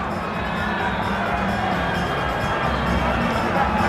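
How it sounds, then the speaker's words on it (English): A packed stadium crowd at a South Africa versus New Zealand rugby test match keeps up a dense, steady roar and murmur, with cheering mixed into a broad wash of noise. "So the crowd once again very excited, but now very, very quiet."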